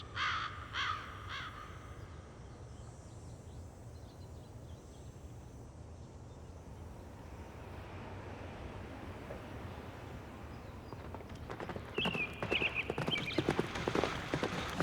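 A horseman riding in the strategy video game Empire Earth 3 produces faint clip-clop hooves under a low wind-like ambient bed, with a bird caw near the start and louder clattering near the end.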